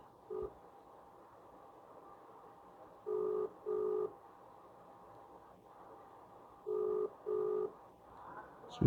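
Phone ringback tones through a speakerphone on an old phone, heard as paired tone bursts in two groups, one pair near three seconds and another near seven, fairly soft over a quiet room hum.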